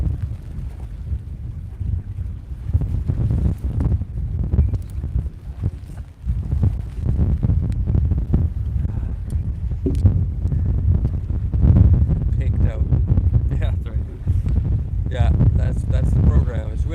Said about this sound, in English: Like the wind is quite severe at times.